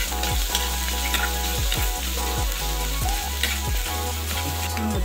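Garlic frying in cooking oil, a steady close sizzle with a low rhythmic thumping and humming sound running underneath, no talking.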